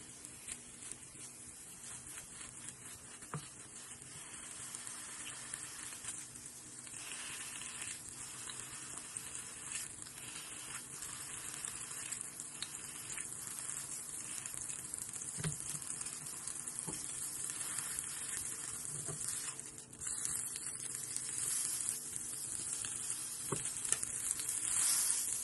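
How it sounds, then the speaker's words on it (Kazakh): Burger patties fry steadily in a pan of hot oil, giving a continuous close sizzle with soft crackles and occasional pops, slowly building slightly louder, with no talking. "Осылай котлетімізді екі жағын қызартып қуырып аламыз."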